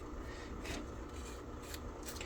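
Fine 600-grit sandpaper rubbing over a model's surface, producing a steady, soft rasping scrape in short repeated strokes, close and quiet with no talking.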